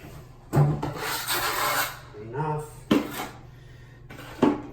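A steel trowel scrapes and rubs cement mortar onto a concrete basement washroom floor before tiling, in several close, gritty strokes with short pauses between them.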